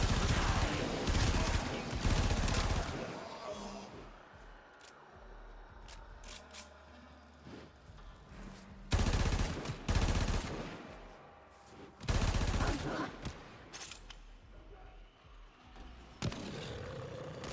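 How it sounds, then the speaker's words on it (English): Gunfire in the video game Warframe aimed at the player, with loud broadband bursts arriving in uneven clusters and sharp single reports between them, over a steady game soundscape. "I'm still being shot."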